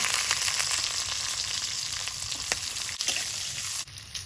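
Bay leaf and whole garam masala sizzle in hot oil in a wok (kadai) at the start of a Bengali fish kalia: a steady, close, bright crackling hiss with small pops, continuing evenly throughout with no talking.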